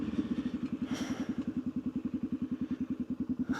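A 31-year-old 250 motorcycle on big knobby tires rolls through a neighborhood street, its single engine thumping in a steady, rapid rhythm close by, with no talk over it.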